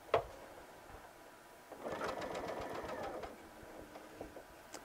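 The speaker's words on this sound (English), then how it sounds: "And then I can start sewing." A Brother VM6200D sewing machine stitches fabric in a short, quiet run of rapid needle clatter lasting about a second and a half, with a click before and soft handling noises around it.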